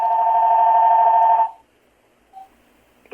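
A home-office desk phone rings steadily for about a second and a half and then cuts off, followed by near silence and a faint brief click.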